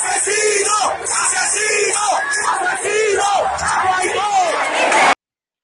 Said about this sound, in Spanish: Les gritaban asesinos a los militares, les gritaban patria y vida